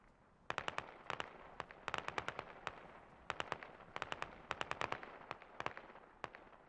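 Rounds striking a vehicle in the military shooter Squad, sharp metallic impacts landing in quick irregular clusters, crisp and fairly close against a low background hum.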